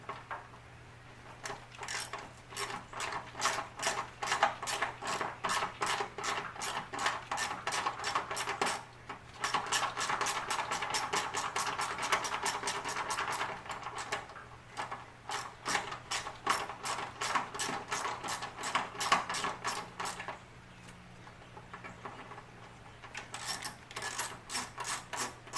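Removing small 7mm bolts holding relays on a 1992 Mustang LX firewall: long runs of rapid, close ratchet clicks, stopping briefly and starting again, moderately loud.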